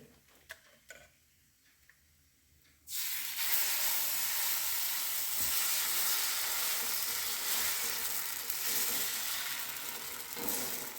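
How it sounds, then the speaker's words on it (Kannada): Raw banana dosa batter hits oil on a hot pan and bursts into a loud, sustained sizzle after a few quiet seconds of small clicks, staying close and steady to the end. "ಪುನಃ ಎರಡನೇ ಬಾರಿ ಕೂಡ ದೋಸೆ ಹೊಯ್ಕೊಳ್ತಾ ಇದ್ದೇನೆ. ಎಣ್ಣೆ ಹಾಕಿದ್ದೇನೆ."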